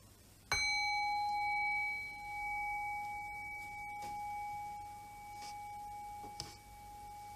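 A meditation bell is struck once and rings with a clear, sustained tone that slowly fades, with faint rustling and a few small taps in the quiet room.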